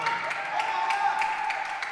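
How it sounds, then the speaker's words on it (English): Crowd at a junior world squash team match between England and Hong Kong cheering and applauding steadily and loudly, a dense sustained roar with scattered claps and shouts throughout. "crowd going absolutely bananas"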